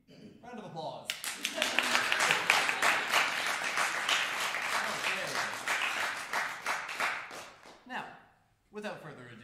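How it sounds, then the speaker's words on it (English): An audience at a university horn recital breaks into clapping, many hands in a lively burst lasting several seconds before fading to silence, with a voice speaking briefly before and after. "Round of applause."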